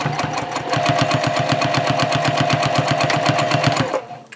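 A sewing machine stitches a key fob card pouch in a fast, steady run of even needle strokes, loud and close, before stopping abruptly near the end.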